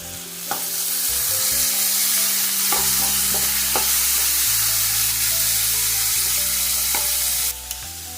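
Onions fry in hot oil for a gravy, a steady loud sizzle with repeated scraping stirs and clinks of a spoon against the pan, continuous throughout.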